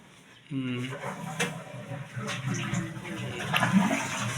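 Water sprays from a repaired household shower that had gone unused for a year because of weak water pressure, a steady rushing hiss that starts abruptly and carries on under nearby voices talking.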